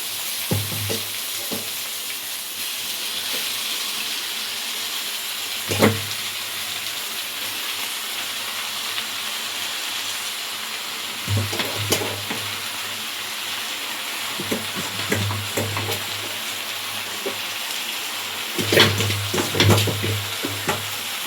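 Drumstick leaves sizzling in a hot frying pan with a steady hiss throughout, broken by several scraping clatters as a spatula stirs them, close and fairly loud.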